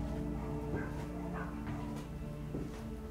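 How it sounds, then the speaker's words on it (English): Dogs bark and yip outside the grounds of an abandoned 1700s mansion, several short faint calls scattered over a steady low background hum, heard at a distance. "In case you hear all these dogs outside"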